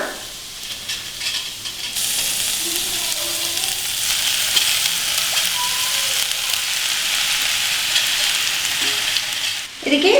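Street-style veg noodles being stir-fried with vegetables in a pan, a strong continuous sizzle that rises after a quieter start and stays loud and steady for several seconds.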